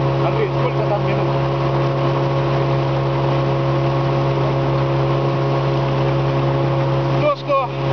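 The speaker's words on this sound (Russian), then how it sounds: "Сейчас мотолодка идет по реке Волхов." A motorboat engine drones steadily as the boat travels along the Volkhov river, a constant mid-pitched hum with a bright whine, close and unbroken for the whole stretch.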